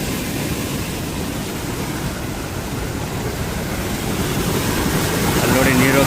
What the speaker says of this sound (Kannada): ಸಿಕ್ಕಾಬಡೆ ನೀರು ಹೋಗ್ತಿದೆ.